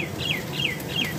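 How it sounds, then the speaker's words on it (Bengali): A bird repeats a short, high descending call three times at a steady pace, fairly clear over a soft background hiss. "কি সুন্দর পাখি ডাকছে বন্ধুরা"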